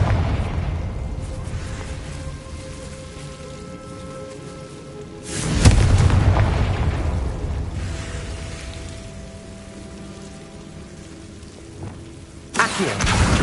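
A Confringo spell detonates in Hogwarts Legacy with a loud, deep boom that rolls off into a rumbling tail over a constant crackling bed, followed later by a second sharp burst.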